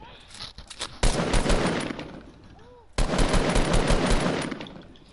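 Rapid automatic gunfire from a video game, loud sustained bursts in two long stretches separated by a brief lull, with sharp onset cracks and dense rattling throughout.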